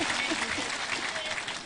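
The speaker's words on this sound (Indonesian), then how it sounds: "Ya tepuk tangan untuk Pak Bupati" An outdoor crowd at a tobacco planting festival in Temanggung applauds the regent, with dense clapping throughout and voices mixed in beneath it.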